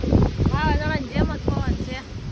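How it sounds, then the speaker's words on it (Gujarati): Gusty wind buffets the microphone with a heavy low rumble while a person talks over it. "પવન તો જુઓ વાવાઝોડું આવશે એટલો પવન છે"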